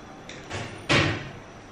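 Door in a hospital accident and emergency department sliding and closing: a soft swish followed by a sharper thud or clunk, close by, in a quiet room without talk.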